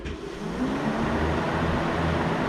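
Electric cooling fan switched on inside a Peugeot 205 Trophée, a close, loud, steady broadband whoosh that starts with a short rise and then holds even and unbroken.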